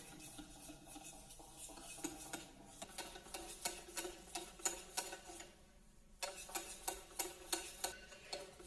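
Banana cake batter being mixed in a bowl after melted butter is added, giving steady repeated clinks and scrapes of a utensil against the bowl at close range, with no talking.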